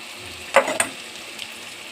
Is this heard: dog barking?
no